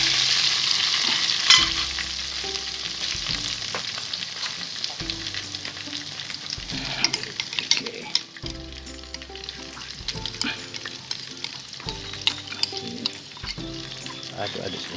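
Ground spice paste for keumamah asam sunti sizzles in a pan with onions and curry leaves, a steady frying hiss broken by repeated scraping stirs; a voice talks softly underneath.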